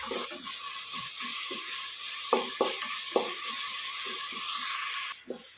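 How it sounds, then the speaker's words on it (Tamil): Ginger, garlic and green chili paste sautés in a pan for a country chicken curry, giving a steady sizzle with a few sharp scraping clicks from stirring, close and alone, with no voices. "இப்போ இஞ்சி பூண்டு விழுது இஞ்சி பூண்டு பச்சை மிளகாய் பேஸ்ட் இது இதை இதோடு சேர்த்து வதக்கலாம்"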